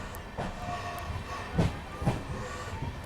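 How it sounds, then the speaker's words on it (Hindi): Amrit Bharat Express train easing onto a loop line at Phaphund railway station, heard as a faint, steady rolling rumble with soft rhythmic clicks of wheels over rail joints. "यहाँ पर लगाया जा रहा है एक बार फिर से लूप लाइन पे अपनी अमृत भारत एक्सप्रेस को"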